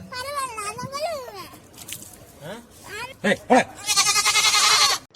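Goats bleat loudly and repeatedly at a goat washing competition during a village Pongal celebration, the calls mixing with lively nearby chatter from people.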